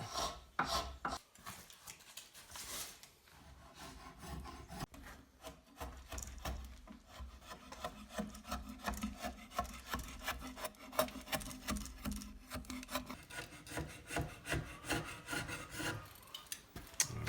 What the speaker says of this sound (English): just use a scraper and clean it up a little bit